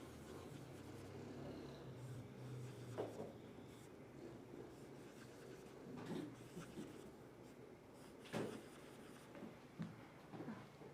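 Someone writes music notation by hand on paper, making a soft, scratchy pen-on-paper rub with faint taps. It is quiet and close, with no one speaking.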